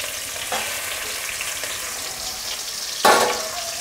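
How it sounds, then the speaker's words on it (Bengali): Prawns frying in a pan over a high flame, a continuous close sizzle with a spatula scrape early on and a sudden louder burst of spitting oil near the end, no voices. "এবারে চিংড়ি মাছটা ভেজে নিচ্ছি"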